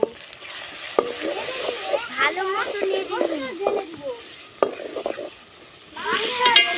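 Turmeric and chili powder stirred as they fry in a pan, with a continuous hiss of frying and scraping strokes heard under close talking, loudest toward the end.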